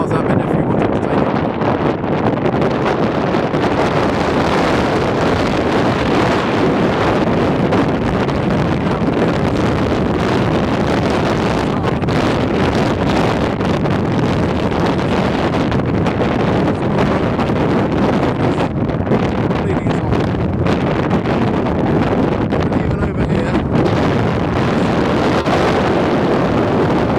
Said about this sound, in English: We shall have to shout out the sound of the wind.